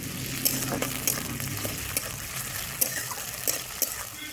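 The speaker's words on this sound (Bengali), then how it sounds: "এবার এর মধ্যে দিয়ে দেবো আমি চিংড়ি মাছগুলো।" Prawns fry in a pan with chopped onion and radhuni spice, a soft continuous sizzle with light periodic clinks and scrapes of a spatula, close by and without talk.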